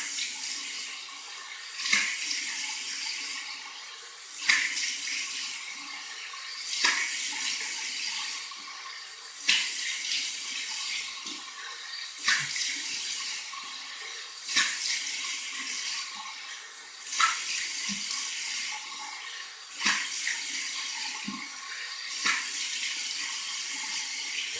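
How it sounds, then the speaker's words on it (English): Warm water runs steadily from a tap for a rinse, a continuous hiss and splash interrupted every few seconds by louder bursts as hands or skin pass through the stream; no one speaks. "Okay, so we're going to do a warm water rinse."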